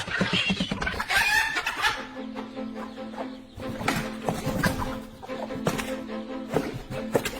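A hen clucks insistently with sharp, agitated calls while fighting a goshawk attacking her chicks, amid scuffling and flapping sounds nearby.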